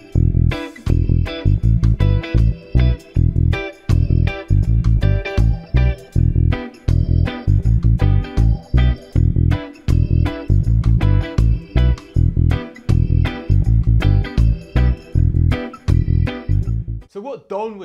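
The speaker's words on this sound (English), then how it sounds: "So let me play it with the backing track so you can hear how this concept works." Reggae bass line played over a full backing track, steady repeating rhythmic phrases with punchy low notes and drums throughout, loud and close, stopping near the end.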